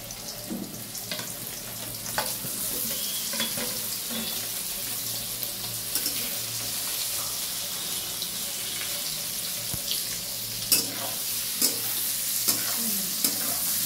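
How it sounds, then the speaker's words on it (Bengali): Paneer frying in white oil with a little turmeric, a steady soft sizzle running throughout with occasional stirring clinks and scrapes, close and moderately loud, no talking. "পনিরটা সাদা তেলে ভাজবো, একটু হলুদ দিয়ে দিয়েছি"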